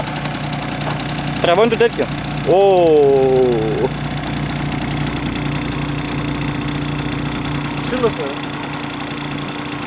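Honda Super Jog scooter idling roughly, a steady buzzing engine with a surging uneven note close by, while people speak over it.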